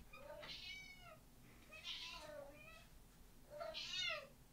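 A cat meows three times in a row, each call rising and falling, close and fairly clear over a faint background hum.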